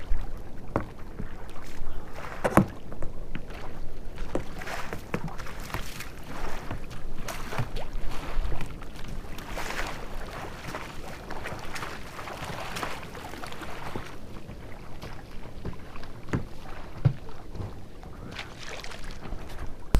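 Oars work a small, stable rowboat on open water, with steady dipping and splashing strokes under constant wind rumble on the microphone; no one speaks.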